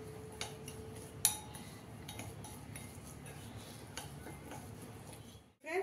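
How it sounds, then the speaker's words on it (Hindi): Spoon clinking against a bowl while spice masala and oil are mixed for green chilli pickle, light scattered taps and scrapes at a steady hand pace, close and quiet with no talking. "उसके बाद इसको फिर से इस तरह से मिक्स कर लीजिए ऐसे।"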